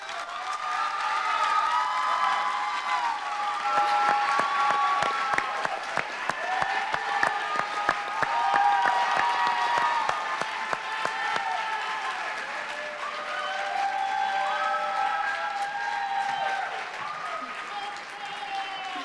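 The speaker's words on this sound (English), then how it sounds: "I'm sure you can tell by that applause that you definitely hit the audience" A large audience at a charity challenge finals applauds loudly and continuously with some cheering, a dense wash of clapping that swells and holds for the whole stretch before easing slightly.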